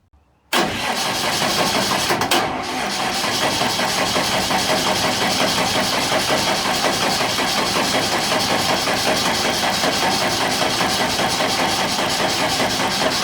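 A diesel engine cranks and fires after a new fuel pump install, catching at once and settling into a loud, steady, close idle with a rough knocking rhythm and no talk.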